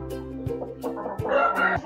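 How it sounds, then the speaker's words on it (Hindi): Aseel chickens cluck and call close by, an Aseel rooster among hens, giving a run of short throaty clucks rising into louder calls, with no talking. "ये आपको मुर्गा दिखा रहे हैं"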